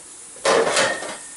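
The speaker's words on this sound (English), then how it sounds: "Cover the lid" A metal lid is set onto a steel idli maker with one sharp close clang that rings briefly, then a fainter second clink as it settles, in an otherwise quiet kitchen.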